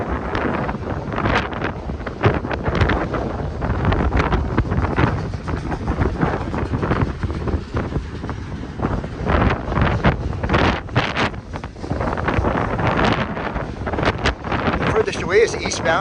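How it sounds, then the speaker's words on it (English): Strong, cold wind buffets the microphone continuously at Hill 582, a railway hill, roaring in loud uneven gusts for the whole stretch with little else audible. "And it's cold and windy."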